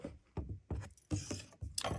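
Sewing machine stitching a cap, heard as several short bursts of mechanical whirring and clicking separated by brief pauses, close and fairly quiet.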